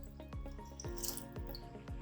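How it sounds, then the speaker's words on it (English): Water poured into cooked lentils while making rasam, a soup: soft repeated dripping and splashing plops at an uneven rhythm, close and quiet, with no voices. "So I'm adding extra water,"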